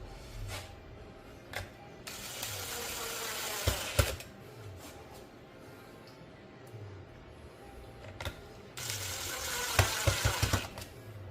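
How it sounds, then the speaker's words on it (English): Screws are driven back into a Paramount pool valve module and snugged down, making bursts of ratcheting, whirring mechanical noise separated by quieter pauses, with short clicks and knocks in between. "at this point, we'll go ahead and put our screws back in"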